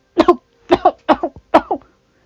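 Four harsh coughs in quick succession, each a sharp double burst, close and loud with short pauses between.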